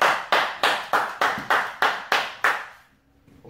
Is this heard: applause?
yes